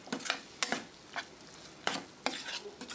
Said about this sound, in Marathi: टोमॅटोला सुद्धा कांद्यावर चांगले परतून घ्या.